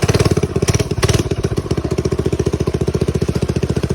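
A rebuilt mini bike engine running on a test ride, a loud, close, steady rapid putter with a quick rhythmic pulse throughout.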